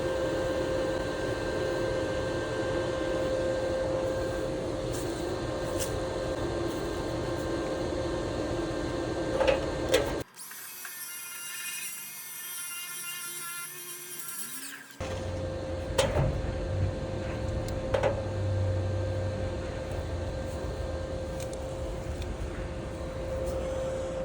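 A wire wheel scrubs a stick weld laid by a TecWeld stick welder, giving a loud, steady, hissing whir that runs throughout, with a brief change in tone partway through.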